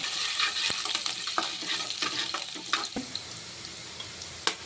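Garlic, ginger and green chillies hit hot oil, giving a close, steady sizzle broken by scattered clicks and stirring scrapes, with no talking.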